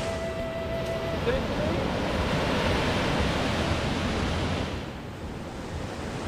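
Big ocean waves break and wash in a steady, loud roar of surf that thins near the end, with wind on the microphone and no talk.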